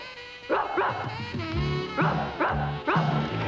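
A dog barks in a quick series of loud, close woofs with yippy, whimpering edges, about five barks in a few seconds.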